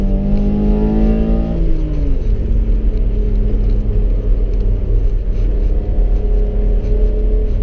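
A 1991 BMW 525i E34 rolls along in second gear behind a slow LPG Dacia, its engine a steady low rumble with no throttle, droning evenly throughout.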